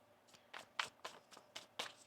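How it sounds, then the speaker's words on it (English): Tarot cards being shuffled by hand during a reading, a quiet, close series of about seven soft riffling bursts in an irregular rhythm, with no talking. "One more shuffle here."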